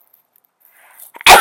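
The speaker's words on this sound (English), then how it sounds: "Hold on, I got to sneeze." A single sharp human sneeze bursts out at the very end after a brief soft inhale, loud and close to the microphone.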